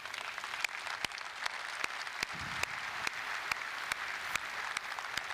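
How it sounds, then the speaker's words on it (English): Applause for the pink team at a youth soccer session, a steady round of clapping with sharp individual claps standing out, moderately loud and continuous throughout. "I think the pink team need a round of applause"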